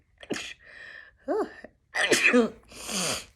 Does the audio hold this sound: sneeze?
yes